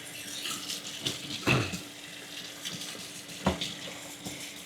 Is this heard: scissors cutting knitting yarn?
no